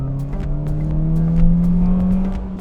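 A sporty hatchback's small engine revs up with a rising, buzzy tone, loud and close, climbing steadily before easing slightly.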